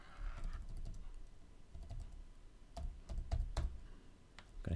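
Computer keyboard typing during a Rhino/Grasshopper session: a quick run of close keystrokes, with irregular clicks and brief pauses, no voice.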